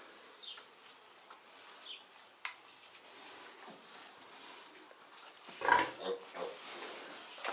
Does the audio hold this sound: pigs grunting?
yes